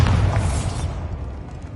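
A Bombarda blasting spell goes off in Hogwarts Legacy, a single loud, close boom with a deep low rumble that slowly fades out over almost two seconds.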